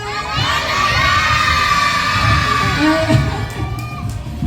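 A group of children shout a name together in unison, loud and close, with crowd cheering and chatter around them at an indoor kids' play venue.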